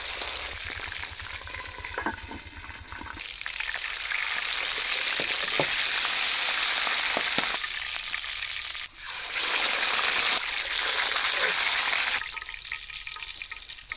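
Salted milkfish (bangus) fries in a pan with a loud, steady, close-up sizzle and hiss. Occasional crackles and pops rise over the sizzle, and no one speaks.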